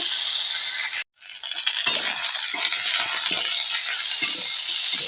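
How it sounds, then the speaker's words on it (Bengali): Red amaranth stalks and potato frying in a pan are stirred, giving a constant bright sizzle with scraping, shuffling stirs over it, briefly cut off near the start and then resuming loudly. "এরপর আমি লাল শাকের ডাঁটাটা দিয়ে দিলাম এটা একটু নাড়াচাড়া করে নেব"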